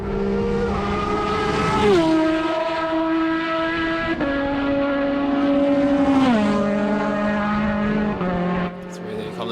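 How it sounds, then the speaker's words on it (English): A Radical race car screams past on the straight at Kirkistown circuit, its high engine whine dropping in pitch through gear changes, loud and close, with commentary running over it. "Through they come the Radical, holding on well enough there in the straight line."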